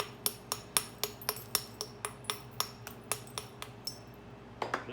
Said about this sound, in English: I'm going to take this little hollow copper bopper and put me some convexity to it.